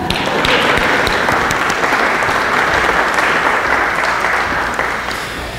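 A congregation applauding inside a church, dense, loud and sustained clapping from many hands that holds steady and then eases off slightly toward the end.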